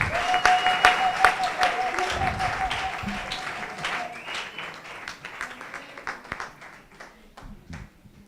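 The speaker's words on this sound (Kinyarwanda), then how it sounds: "Navuze ngo reka dukomere Imana yacu amashyi menshi cyane." A church congregation claps to praise God during a sermon, loud dense applause at first that thins into scattered claps, with a sustained musical tone early on and a voice speaking over it.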